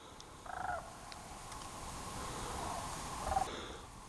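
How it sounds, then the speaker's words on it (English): A flock of sandhill cranes flying south gives rolling, croaking calls in two short bursts, distant and faint, over a quiet outdoor background. "There's a flock of Sandhill Cranes flying south."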